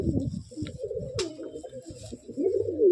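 A small, aggressive male Madrasi (Andhra) pigeon gives repeated low, throaty coos at close range, with soft rustling between the calls and no one speaking.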